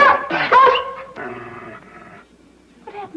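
A hurt dog lets out a couple of loud, close whimpering yelps, then a lower drawn-out growl, followed by a short whine at the end.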